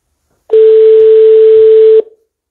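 A single loud, steady telephone tone sounds alone for about a second and a half while a call is placed back to a French number, then cuts off cleanly.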